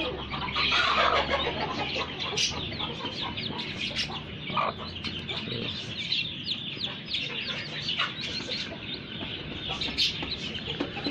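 Black Aseel hen clucking steadily among her golden buff chicks in a farmyard, soft repeated clucks close by with faint peeping and background farm noise throughout.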